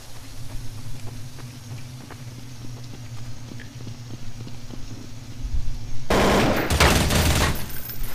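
Automatic AK rifle fire in Counter-Strike Source. Light footsteps come first, then a loud, close burst of rapid shots fills the final two seconds.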